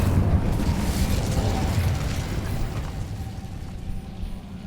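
An Incendio fire spell cast in the Hogwarts Legacy video game, a loud, rumbling burst of fiery roar that tapers slightly over a few seconds.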